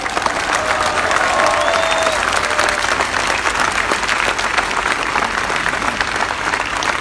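A crowd at a street rally defending court independence in Poznań applauds steadily, a dense wash of clapping that stays loud and even throughout.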